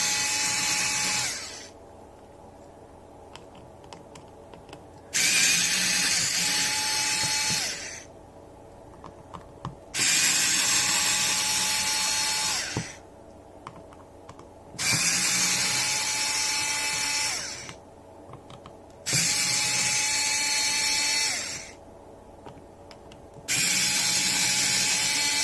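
An electric screwdriver backs screws out of a Galaxy A54 phone during a screen replacement, five separate whirring bursts of a few seconds each with quiet pauses between, close and steady.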